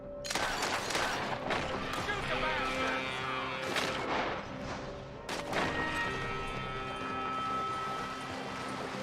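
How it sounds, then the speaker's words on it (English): Gunfire in the Red Dead Redemption 2 video game, a dense volley of sharp shots cracking over a busy, noisy backdrop of music and commotion, with bursts near the start and again around five seconds. "Shoot the bastards!"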